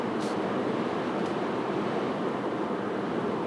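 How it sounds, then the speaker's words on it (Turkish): Constant broadband rushing of wind and road noise inside a 2017 Renault Talisman moving on a highway, steady and unbroken, with no talking. "Azıcık rüzgar sesi."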